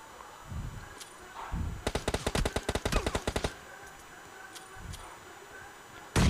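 Gunfire in a battle royale video game: a rapid burst of about a dozen sharp automatic shots lasting under two seconds, set among quieter thuds, distant pops and faint ambient noise.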